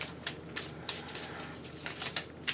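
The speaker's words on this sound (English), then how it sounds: "I'm gonna lightly shuffle it like this." Pokemon trading cards from Sun and Moon Ultra packs being lightly shuffled by hand, a soft run of quick papery riffles and flicks in short bursts, close and fairly quiet with no talking.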